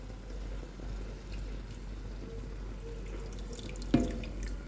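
Water is poured into a cooking pot during home cooking, a steady, soft, continuous pour over a low background hum, with a small splash near the end.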